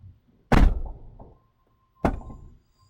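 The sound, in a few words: truck door closing and latching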